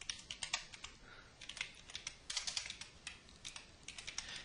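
Rapid, fairly even clatter of keystrokes on a computer keyboard while code is written in C#, close and clear with short bursts and brief pauses, no voices.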